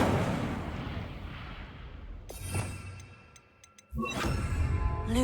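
Incendio fire spell cast in Hogwarts Legacy, a rushing burst of flame with a few small clicks and ticks, then a second whooshing flare near the end.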